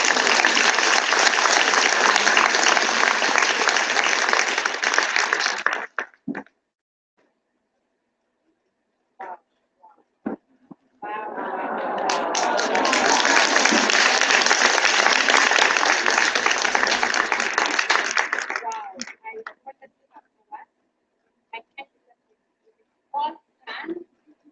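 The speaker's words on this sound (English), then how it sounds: "join me in applauding our two guests" An auditorium audience at a Women's Day event claps for two guests in two loud sustained bursts, about six and eight seconds long, separated by quiet with a few scattered claps.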